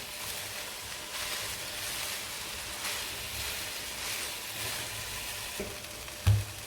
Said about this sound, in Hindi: थोड़ी सी हरी प्याज शामिल कर देते हैं। अब इसको मिक्स कर लेंगे।